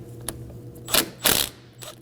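An 8mm ratchet wrench loosens the negative battery terminal on a 2009-2014 Ford F-150 3.5L V6, giving a few close, quick ratcheting clicks in short bursts.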